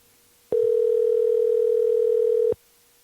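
A steady, loud electronic tone sounds for about two seconds, then cuts off abruptly, with quiet background before and after.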